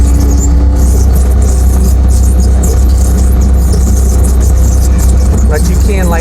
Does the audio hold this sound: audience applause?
no